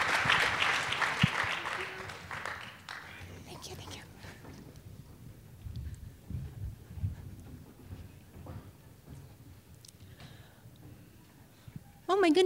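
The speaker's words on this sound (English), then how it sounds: "Give a round of applause." A burst of audience applause at a tech conference keynote, loud at the start and fading within a few seconds into quiet room noise with scattered faint sounds.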